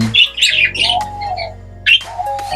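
A lutino pet bird, likely a parrot kept for breeding, gives loud, close, harsh squawks and chirps in several quick bursts with short pauses.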